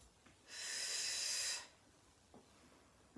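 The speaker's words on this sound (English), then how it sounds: "20 years of Pilates makes me breathe quite loudly" One loud, forceful breath is pushed out during a Pilates abdominal exercise, a hissing exhale lasting about a second amid quiet surroundings, with fainter breaths around it.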